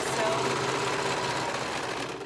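A sewing machine stitches two layers of fabric for a few inches while sewing a shirt, giving a steady, close, continuous mechanical whir that stays level throughout.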